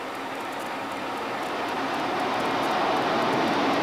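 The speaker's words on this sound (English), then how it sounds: "After receiving clearance, we began a formation takeoff." A Navy F-14 jet formation takeoff, a steady, loud broadband engine roar that holds constant and swells slightly throughout, with no voices.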